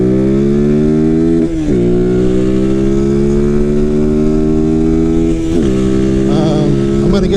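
A motorcycle running a beta tune rides out toward the highway, its engine droning loud and close with steady harmonics that rise through the gears, dipping at two gear shifts before climbing again.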